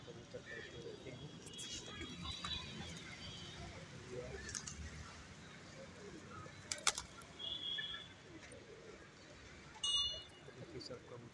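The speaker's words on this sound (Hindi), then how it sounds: "कबूतरों को रोटी डाला हूँ, खिला रहा हूँ। बम्बई कबूतर हैं सब" Rock pigeons in a flock are fed pieces of roti, with soft intermittent cooing and brief bursts of wing flapping against a quiet outdoor background, someone talking over the birds at times.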